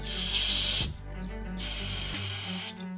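Carburetor cleaner sprays through the carburetor of a Turfmaster small engine in two strong hissing bursts, close and loud, with a short pause between them.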